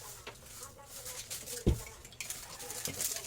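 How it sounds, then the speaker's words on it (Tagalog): Plates are picked up and handled, with soft clinks and one sharp knock of crockery, close by, amid background household noise and people talking. "Magdala na nga ako ng plato"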